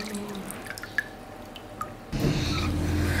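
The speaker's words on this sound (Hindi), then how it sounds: "दोनों हाथों के सेंटर में इनको जितना आप दबा सकते हैं वो आपने दबा के इनका पानी बिल्कुल ड्राई करना है" Water squeezed out of grated potatoes by hand, close wet drips and squishes, then a sudden heavier stream of liquid pattering down as the grip tightens.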